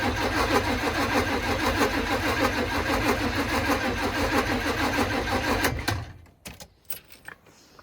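An old car's engine cranks and then runs with a rapid, rough, pulsing rhythm for several seconds after a new distributor is fitted, then cuts out abruptly, leaving a few faint clicks and knocks.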